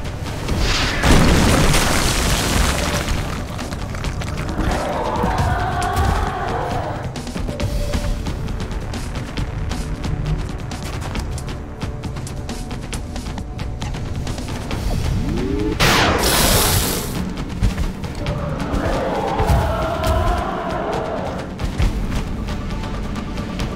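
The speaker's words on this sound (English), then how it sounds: "Rockets away." Rocket explosions in the XCOM Enemy Within video game, a series of loud, deep booms with crashing bursts rolling over a dense, continuous rumble of game noise.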